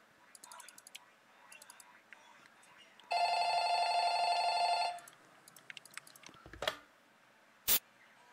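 A video-game telephone rings in one steady, bright electronic trill lasting about two seconds, set among soft clicks and light interface sounds, with a sharp thump afterward.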